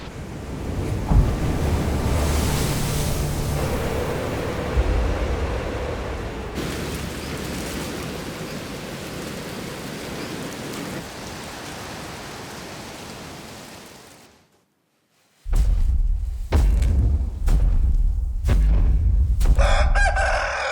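Storm battering a Hawaiian island: loud, continuous roaring surf and gusting wind with a dense rush like heavy rain, a brief lull near the end, then a series of sharp, booming cracks like thunder or crashing waves.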